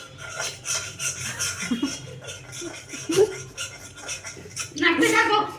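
A utensil stirs food in a cooking pot, giving repeated scraping and rubbing strokes at an uneven rhythm, close and moderately loud, under frequent talking voices.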